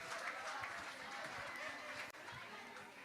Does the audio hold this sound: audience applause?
yes